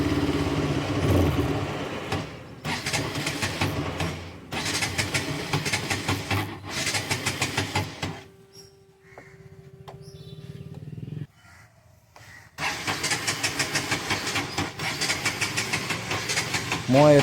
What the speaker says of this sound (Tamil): இப்போ ஸ்டார்ட் பண்ணி ஃபுல்லாக அடித்து பாருங்கள், உங்களுக்கு தெரியும்.